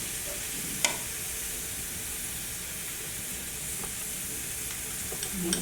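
Ginger garlic paste sizzles in a pan with browned onions, giving a soft, steady frying hiss, with a few faint stirring clicks and scrapes.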